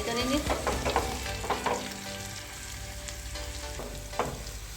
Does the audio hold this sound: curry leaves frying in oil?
yes